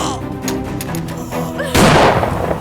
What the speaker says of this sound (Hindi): तूने मुझ पर ही गोली चला दी।